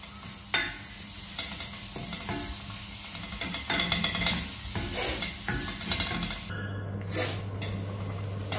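Onions and masala sizzle in a pan for kaju butter masala, with steady frying hiss and repeated scraping stir strokes close by, a low hum underneath and no talking.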